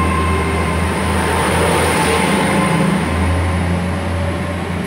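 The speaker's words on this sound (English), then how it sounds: "departing now is a 1614 Great Western Railway service to London Paddington" A Great Western Railway Class 800 train, unit 800-319 bound for London Paddington, departs Bridgend station with a loud, steady rumble and a sustained high whine that stays close throughout.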